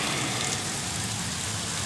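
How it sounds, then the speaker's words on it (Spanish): Steady rain falls in Puerto Vallarta, Mexico, a dense, even hiss of drops hitting surfaces that continues unbroken for the whole stretch, with no voices. "Aquí tiene menos de 10 minutos de lluvia."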